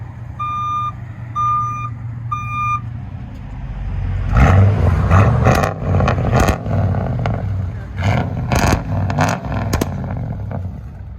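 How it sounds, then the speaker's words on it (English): A modified, very loud bus engine roars loudly and revs in bursts, following a few evenly spaced reversing beeps at the start, close by. "It's the loudest bus I've ever heard."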